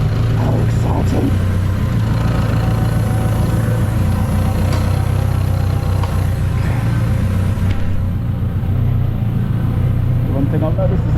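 A BMW K100 cafe racer motorcycle pulls away on its first ride, a steady loud engine rumble throughout with wind noise, and a voice briefly heard over it.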